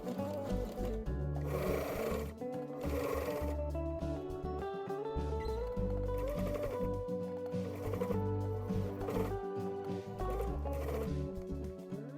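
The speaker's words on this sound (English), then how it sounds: "I like doing the overlocker because it fully encases my 1/4 inch elastic, so there's no chance of a ridge" An overlocker stitches quarter-inch elastic onto the edge of a knit dress, a close, rapid mechanical whirring that runs almost continuously with short pauses and speed changes, with no talk.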